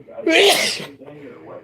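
A single sharp human sneeze bursts out, loud and close, followed by a voice speaking.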